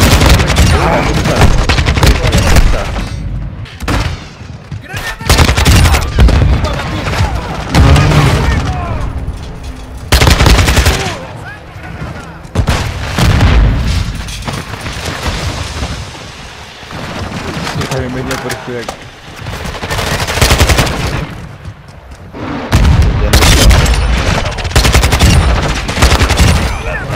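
Kastov 74U gunfire in Call of Duty: Modern Warfare II, dense automatic bursts and explosive booms filling a loud, busy firefight, with shouted voices in the mix throughout.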